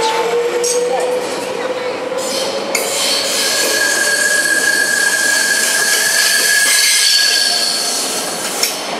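A sprinter train pulls away from a platform in Eindhoven station with loud, sustained wheel squeal and metallic screeching over a rumbling rail noise, close by and steady.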